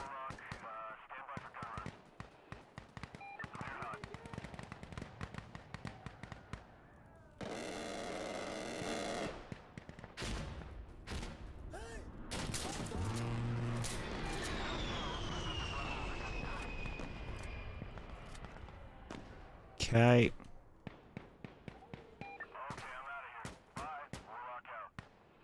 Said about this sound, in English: I can't push that while you've got an auto cannon going.